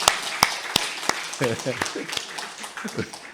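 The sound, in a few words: congregation applause after a hymn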